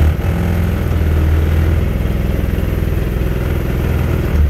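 Engine of a 2011 Wildcat conversion running steadily while out in a river, a loud continuous mid-pitched drone with a fast clattering pulse and no talking.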